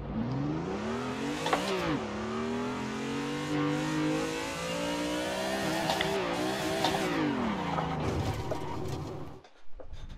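A car drifts in a racing simulator game, its engine revving and swinging up and down in pitch through several slides, loud and continuous before briefly cutting out near the end.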